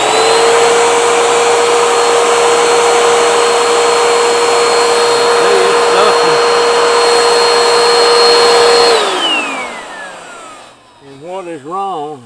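A Bissell upright vacuum cleaner, one with a broken belt, runs with a loud, steady whine close by, then winds down as the motor is switched off, and a voice begins speaking at the end.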